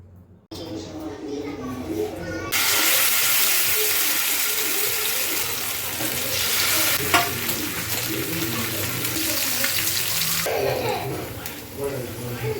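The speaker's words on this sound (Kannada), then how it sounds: "ನೋಡಿ ಈ ಥರ ಚೆನ್ನಾಗಿ ಫ್ರೈ ಆಗಬೇಕು ಇದನ್ನ ಉಲ್ಟಾ ಹಾಕ್ತಾ ಇದ್ದೀನಿ ನಾನು" Marinated fish fries in a pan with a loud, continuous close sizzle, broken by a few clattering moments as the pieces are flipped, while a person talks over the frying.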